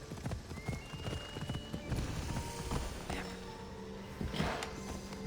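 Horse hooves clip-clop in a steady trot in the game Assassin's Creed Odyssey, with music playing underneath and a brief whinny near the end.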